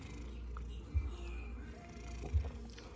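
Pet cats purring in a low steady rumble close by, with two brief louder bursts that could be short meows, no talk over it.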